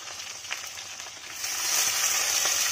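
Onions and bay leaves with a couple of green chillies hit hot oil in a pan, and a steady hiss builds to a fuller sizzle with a few faint stirring clinks, close by and without voices.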